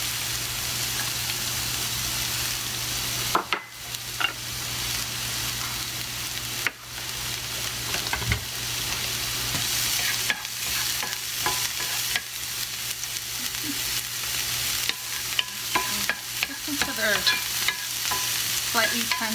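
Onion frying in hot oil in a pan, a continuous close crackling sizzle punctuated by occasional sharp spatula knocks and stirring scrapes that become more frequent toward the end; no speech.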